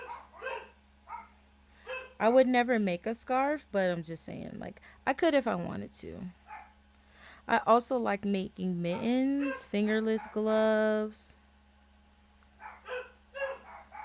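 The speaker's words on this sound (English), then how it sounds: "Sorry for the barking." Dogs barking and yelping in bursts nearby while a person keeps talking, the barks overlapping the speech.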